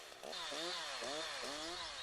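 A chainsaw runs at high revs while it cuts a tree trunk, starting from the base and working upward. The engine whine is loud and steady throughout, with rhythmic rising and falling pitch sweeps as it bites into the wood.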